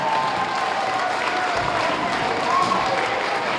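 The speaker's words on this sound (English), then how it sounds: "A nice round of applause, please," Steady, dense applause from a school audience honoring a superintendent, filling the room at close range with a faint murmur of voices mixed in throughout.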